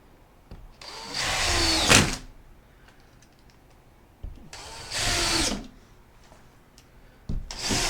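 A power drill drives screws into hard plywood siding on a micro camper build, two loud bursts of whining motor ending in a sharp tightening squeal, with quiet pauses between.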